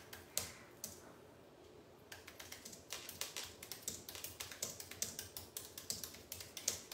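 Quiet, steady clatter of fingers typing on a computer keyboard, with irregular key taps that grow denser and more regular, heard close up in a calm room without speech.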